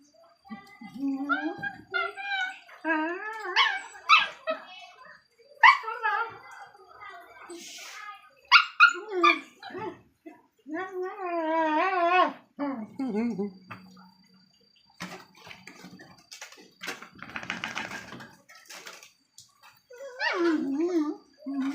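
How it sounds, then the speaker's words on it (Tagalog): Two dogs playing together, with short barks, yips and whimpers scattered among frequent talk and some splashing or rustling noise. "Ayan, maglaro na yung mga aso pala."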